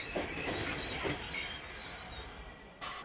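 Cartoon train sound effect of a train running along, with wheels squealing and a soft clickety-clack rhythm, moderately loud and steady with no talking.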